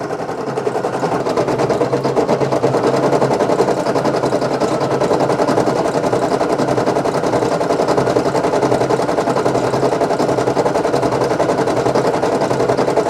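A Brother PE800 embroidery machine stitches a patch, a loud, close, continuous rapid mechanical whirring with a fast even needle rhythm throughout and no voices.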